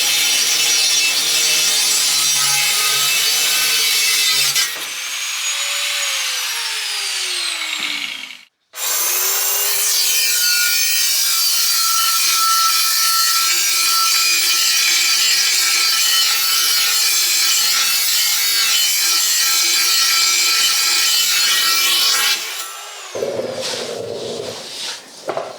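Metal cutting and sanding on a Subaru WRX sill repair panel, a loud, steady rasping grind running almost the whole time, with one brief break and a tailing-off near the end.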